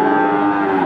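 A white PO breeding cow at the Pasar Pon cattle market in Pati gives one loud, sustained moo that lasts the whole moment, close by and with no talk over it.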